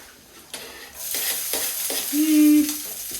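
Onions hitting a pan of browned garlic start frying, a steady sizzle rising under occasional stirring knocks, with a brief louder hiss partway through, close and continuous.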